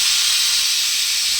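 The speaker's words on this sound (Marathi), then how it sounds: "हळद आणि हिंग टाकून आपण कुकर लावून घेऊया. कुकर लावून रेडी आहे" A pressure cooker holding dal with turmeric and asafoetida releases a loud, steady hiss of steam, unbroken and close throughout.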